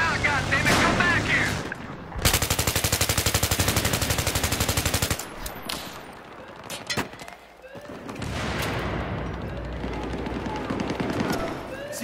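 A machine gun rattles in Battlefield 3, a loud rapid sustained burst of near-constant shots lasting a few seconds amid surrounding battle noise, with players shouting around it.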